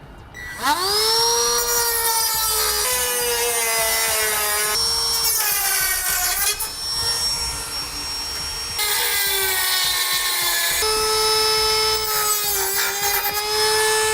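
A power tool trimming the lower bumper lip of a 2017 Chevrolet Equinox, a loud whining grind that holds steady with brief dips as the cut is worked in passes, no talk.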